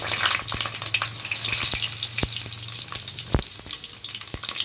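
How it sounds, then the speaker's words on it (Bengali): Pieces of pointed gourd and eggplant fry in hot oil in a wok, giving a dense, near sizzle with sharp pops and spatters scattered throughout. "এবার আমি এক এক করে পটল আর বেগুনগুলো ভেজে নেব।"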